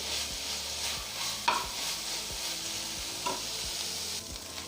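Chicken sizzles in a pan with soy sauce while a spoon stirs and scrapes it in steady strokes, a continuous frying hiss with periodic clanks.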